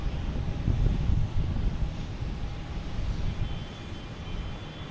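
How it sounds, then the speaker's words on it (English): A JetBlue Airbus A321 airliner arriving at Boston Logan Airport gives a distant, steady low jet rumble with faint whine, softened by light wind noise. "We have a JetBlue coming in from Punta Cana,"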